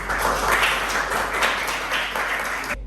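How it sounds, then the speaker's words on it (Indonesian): Applause for a student named Keisha during a Quran recitation lesson, a steady moderate patter of clapping that stops abruptly at the end. "tepuk tangan untuk Keisha"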